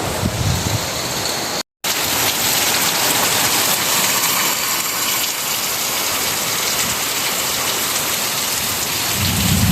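Heavy monsoon rain pours down over paddy fields in Konkan in a dense, constant roar with low thunder rumbling underneath, loud and close, with a brief cut early on.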